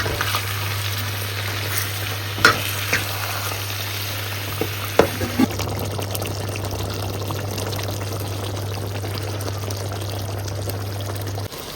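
Hyderabadi green chicken gravy stirred after mint, coriander and green chili paste and water go in: a steady, close simmering sizzle over a constant low hum, with a few soft scraping knocks from the spoon and no talking.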